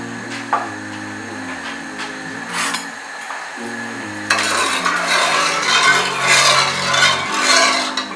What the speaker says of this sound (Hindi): दूध हमारा उबल रहा है